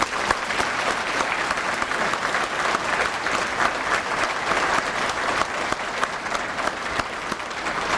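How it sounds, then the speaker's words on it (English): An audience at a police academy graduation gives a steady, full round of applause, dense overlapping claps holding at an even, fairly loud level throughout. "Please join me in giving these individuals a well-deserved round of applause."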